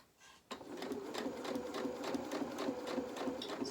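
A sewing machine starts after a short pause and stitches fabric around the neck seam of a small waistcoat. It runs with a close, steady, rapid mechanical chatter at an even pace.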